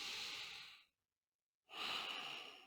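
A slow, audible exhale during a gentle cardiac rehabilitation stretch, breathy and close, followed by a short silence and then another long breath.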